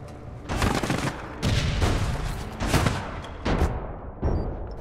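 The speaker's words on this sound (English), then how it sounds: "I am a crap shot with a shotgun." Shotgun fire in the online shooter game APB Reloaded, heavy blasts in a rapid series of about five booming shots with rumbling tails, loud and close with no voice over them.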